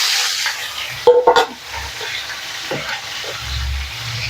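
Chicken pieces hit golden-browned onions in a hot pan, giving a loud sizzle and sharp clanks of a spoon stirring, before the frying settles to a quieter hiss.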